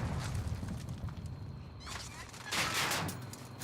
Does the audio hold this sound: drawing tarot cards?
no